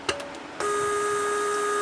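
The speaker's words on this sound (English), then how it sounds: "right now the pump is energized, the vacuum circuit is not leaking" Bench-tested vacuum pump for a Mercedes S320 door lock system, a click followed by a steady, loud electric whine that runs on without a break.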